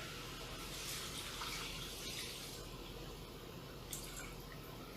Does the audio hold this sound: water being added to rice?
yes